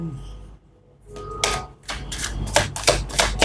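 A tarot card deck is swapped and shuffled close up, a run of quick crisp riffling and tapping bursts that grows busier after a brief quiet start, with no talking.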